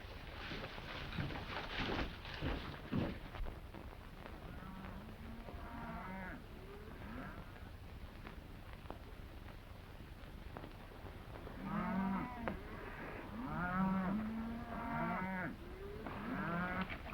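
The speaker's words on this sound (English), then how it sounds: "A nice-looking herd." A herd of cattle on an open ranch lowing and mooing, several drawn-out calls overlapping at moderate distance, louder bursts near the end, over a steady background hiss and with no talk.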